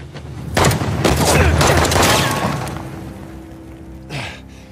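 Video game gunfire: a loud burst of rapid shots erupts and rolls on for a couple of seconds, then fades, followed by one more sharp report.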